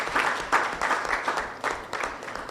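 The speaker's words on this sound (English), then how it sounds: "I think that we all deserve a round of applause" Applause from a lecture audience at the Kronti ne Akwamu Lecture, moderately loud clapping in uneven surges across a couple of seconds, with no speech over it.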